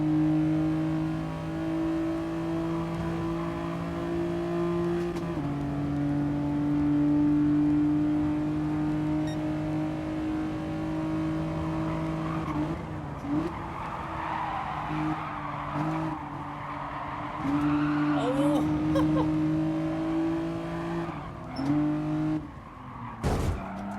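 Race cars lapping in the Gran Turismo Sport video game make a continuous engine drone that shifts pitch as they go through corners, with tyre noise and short sharp impacts later on.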